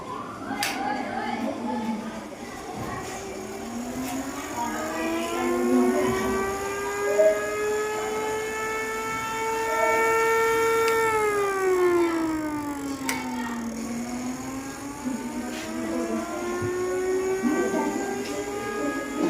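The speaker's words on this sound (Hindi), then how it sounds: "आइए हम इसको प्लग में लगाकर सायरन की आवाज़ सुनते हैं।" Perforated-disc siren science toy, plugged in and spinning, sounds a steady wailing tone that rises, holds, dips and climbs again over about twenty seconds, loud and continuous with faint background noise.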